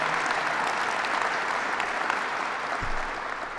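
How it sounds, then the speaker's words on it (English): An audience applauds county executives at a New York state government announcement, a dense, sustained wash of clapping that fades slightly toward the end, with no speech over it. "Let's give them a round of applause."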